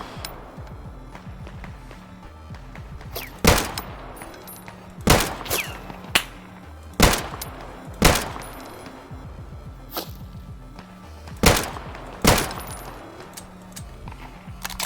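Gunshots fired in the survival shooter Deadside, seven sharp loud cracks spaced irregularly over a steady low rumble of background game ambience, each a distinct single report.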